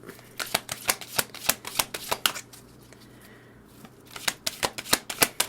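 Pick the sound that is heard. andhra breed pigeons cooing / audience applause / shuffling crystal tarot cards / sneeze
shuffling crystal tarot cards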